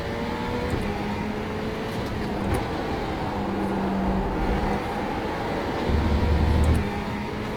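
Simulated Ferrari GT3 race car in iRacing accelerating out of a corner, a steady loud engine drone with rising and shifting tones and brief low bumps, heard alone with no talking.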